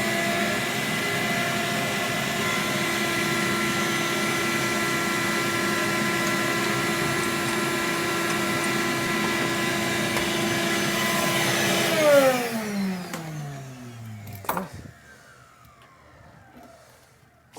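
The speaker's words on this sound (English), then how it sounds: "So we'll vacuum again, try and get that coffee out of there." A vacuum cleaner drones loudly and steadily while it sucks coffee grounds out of a Ceado E37S grinder. Near the end its motor is switched off and winds down with a falling whine, followed by a few clunks.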